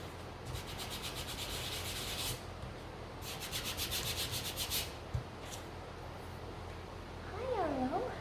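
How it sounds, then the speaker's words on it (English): Quiet scratchy rubbing of sandpaper over small mini sunflower gnome pieces held on tape, in two longer bursts with a pause between, followed by a brief animal-like squeak near the end. "So I'm just gonna try and sand them on the tape."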